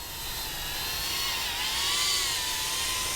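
Small propellers of a BetaFPV Meteor75 Pro 1S FPV whoop drone buzz with a high, thin whine that wavers slightly in pitch, fairly quiet and steady throughout.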